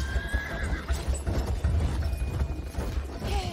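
A horse in the World War I video game Battlefield 1 whinnies loudly while hooves clip-clop and thud at a gallop underneath, the neigh rising and falling over the steady hoofbeats.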